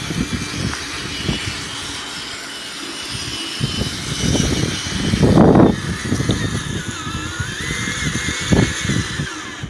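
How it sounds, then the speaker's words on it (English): A GRC G2 transmission drives in first gear at full speed outdoors on a windy day, giving a steady mechanical whine and rumble with wind buffeting and a louder surge midway. "here's the GRC G2 transmission test. First drive, first gear. Full speed."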